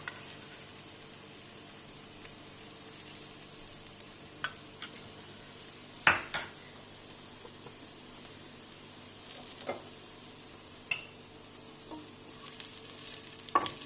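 Yolks and oil frying in a pan while beef burgers are cooked, a low steady sizzle broken by occasional sharp ticks and clinks of utensils against the pan, fairly quiet and with no talk over it.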